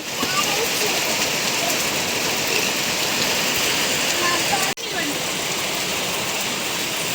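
Steady, dense rain pours down outdoors as a loud, even hiss of countless drops on surfaces, broken only by one brief dropout partway through.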